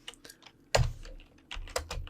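Irregular clicking keystrokes on a computer keyboard, close and fairly quiet, with one heavier key thump in the middle.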